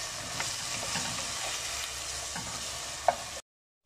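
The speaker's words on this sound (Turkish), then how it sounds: "bu arada etimizi kavurmaya devam ediyoruz. Güzelce kavuruyoruz." Meat for an oven güveç sautés in a pan with a steady close sizzle and light stirring scrapes, one sharper clink near the end before the sound cuts off.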